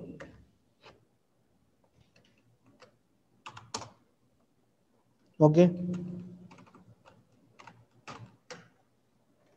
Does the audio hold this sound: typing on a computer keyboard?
yes